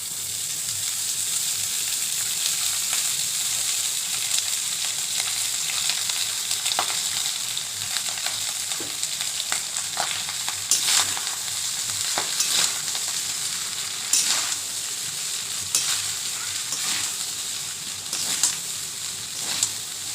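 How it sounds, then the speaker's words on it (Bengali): Vegetables sizzle steadily in a hot pan, with scattered sharp clicks and scrapes from stirring throughout. "সুন্দর করে একটু ফ্রাই করে নেবো"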